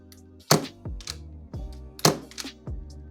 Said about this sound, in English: First thing is the Marui Mark 23 non-blowback gas pistol.